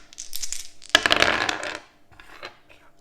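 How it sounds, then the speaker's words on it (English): Attack dice rolled across a tabletop during a solo run of the Star Saga board game: one sharp clattering burst of tumbling dice that rattles for about a second, then a few quieter taps as they settle. "Oh, helps if I roll an attack dice."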